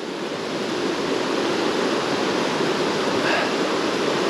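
Water of the River Ayr rushing steadily along a riverbank, a dense continuous broadband roar like a small weir or rapids, close and even throughout with no voices.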